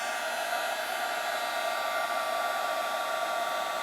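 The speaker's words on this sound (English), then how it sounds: "now I'm going to emboss with my heat tool that greeting" An embossing heat tool blows steadily on a greeting card, a constant close hissing whir with no breaks and no speech.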